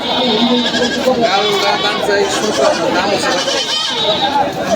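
Goats bleating repeatedly amid a noisy goat market at Jamalpur Chowrasta, Gazipur, Bangladesh, with crowd chatter and voices mixed in throughout; loud and busy.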